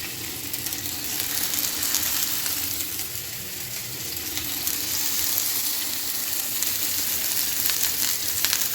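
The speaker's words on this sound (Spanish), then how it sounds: "Recuerden que el sartén está a fuego bajito." Food frying in oil in a pan over low heat, a steady dense sizzle and crackle holding at an even level throughout with no talking.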